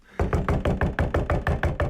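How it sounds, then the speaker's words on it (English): Rapid knocking on a bathroom door, about nine firm, evenly spaced raps in quick succession, close and loud with no voices. "Stop knocking!"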